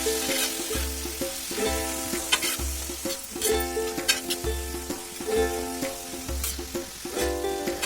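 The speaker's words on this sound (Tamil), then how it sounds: "கருவேப்பிலை பொரிஞ்சதும் நம்ம ஊற வச்சுருந்த இறாலை அதில் சேர்த்துக்கலாங்க" Marinated prawns go into a tawa of hot oil with crisp fried curry leaves over a medium flame, giving a steady close sizzle and crackle under rhythmic background music.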